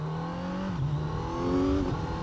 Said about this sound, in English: this engine is so well tuned and so smooth that especially in lower revs